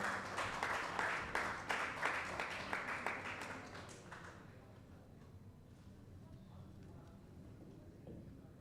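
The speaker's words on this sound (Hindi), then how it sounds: "जोरदार ताली एक बार मैम के लिए" Audience applause at an awards event, a burst of loud, dense clapping over the first few seconds that thins into scattered claps and dies away into quiet room tone.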